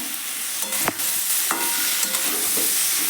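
Cauliflower sautéing in hot oil with a bay leaf added, a steady loud sizzle and frying hiss with a few scraping stirs of a utensil, no talk.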